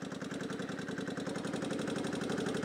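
A rusted 2000 Kawasaki VN15 motorcycle idles slightly high, its engine ticking over in a fast, even, close-up pulse with a slight knocking texture and no talking.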